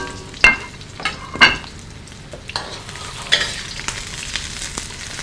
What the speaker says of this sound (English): The smell of just the garlic and the onion stir frying.